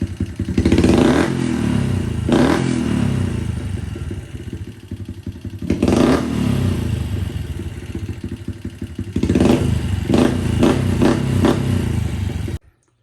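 A Honda CRF110 dirt bike fitted with an Aracer RC5 Mini runs close by, idling with a steady mechanical clatter and throttle blips that swell and drop between spells of idle before it cuts off.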